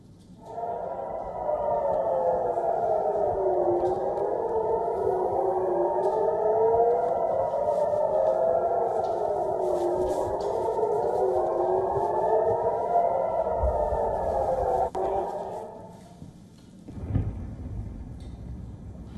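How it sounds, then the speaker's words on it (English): Air raid sirens in Israel during an Iranian missile and drone attack wail continuously, several overlapping tones rising and falling in slow cycles, loud and steady for about fifteen seconds before a low rumble. "Air raid sirens and explosions were heard in cities across Israel."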